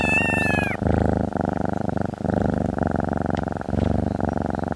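A cat purrs loud and close in a steady rhythmic rumble, pulsing with each breath, after a brief high tonal chime at the start.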